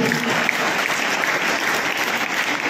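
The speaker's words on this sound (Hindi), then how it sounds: "तालियों की गड़गड़ाहट रुकनी नहीं चाहिए आपकी।" Sustained applause from a large crowd at a school results ceremony, a dense, even wash of clapping that carries on steadily without pause.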